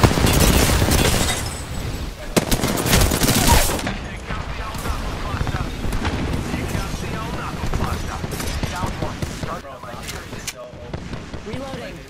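Gunfire from other players in Apex Legends on PlayStation: rapid automatic bursts and sharp shots, loudest and densest early, then scattered shots and impacts continuing under a player's talking.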